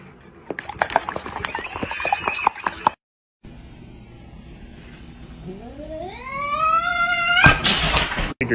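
A cat meows loudly and drawn out, rising in pitch, after a stretch of tapping and clattering noises nearby.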